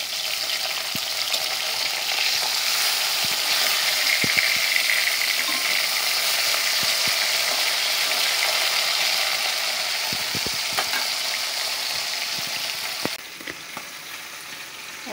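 Cumin seeds ground to a fine paste on a village grinding stone, a steady close, gritty scraping and rasping that runs continuously and evenly throughout, with no talk.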